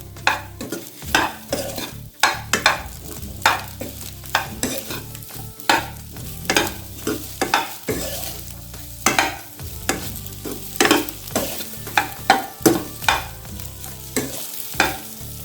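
Colocasia roast is stir-fried on high heat, with a sizzling hiss under a run of rhythmic spatula scrapes and clatters against the pan, close and steady.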